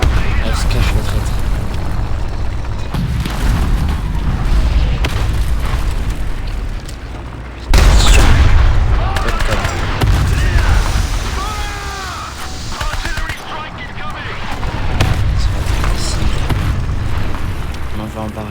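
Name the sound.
artillery barrage fire in War Thunder Mobile video game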